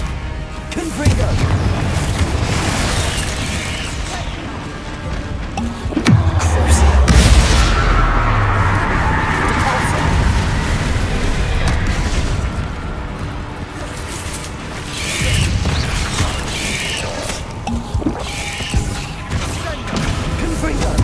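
Explosive Confringo spells fired in Hogwarts Legacy combat, heavy booms and crashing blasts over a continuous rumbling battle bed, with a big deep thud around the middle and scattered sharp impacts later.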